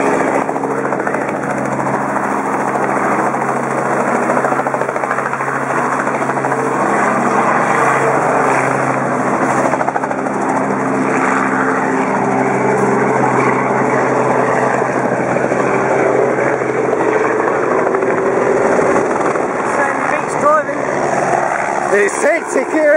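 Steady engine and rotor drone from helicopters flying around Silverstone airfield, heard from inside a light aircraft cabin as a constant loud hum with voices talking over it.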